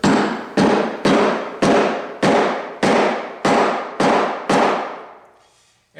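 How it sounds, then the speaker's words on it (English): A wooden mallet strikes a metal center punch to mark the center of a wooden piece for a miniature Christmas tree, nine loud, evenly spaced sharp knocks, each ringing briefly before the next, then a pause. "when you're hammering these pieces, always use a wood mallet, not metal on metal"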